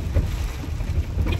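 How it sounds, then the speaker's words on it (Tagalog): Heavy rain drums steadily and loudly with a dense, rumbling wash of noise, continuous through the brief moment. "ay grabe guys, ang ulan. Malakas."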